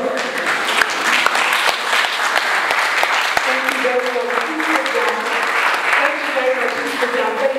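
Sustained applause from the audience at a college graduation ceremony honouring a teacher, a dense, steady wash of clapping with faint voices mixed underneath.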